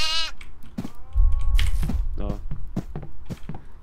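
A goat in the horror video game Devour gives several wavering bleats, loud and close, mixed with clicks and a player's voice talking over the game sounds.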